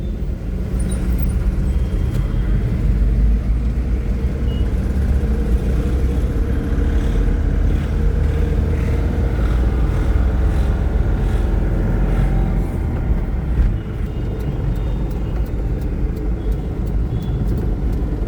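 Road traffic passing near tunnel construction works on a tree-lined road, a continuous low engine rumble and tyre roar, loud and close throughout with no talk.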